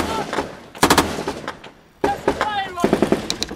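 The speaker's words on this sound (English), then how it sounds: "Okay, they're still firing at us" Enemy gunfire in a combat zone, bursts of machine-gun fire cracking in two loud volleys with a brief lull between, near and sharp, with voices mixed in.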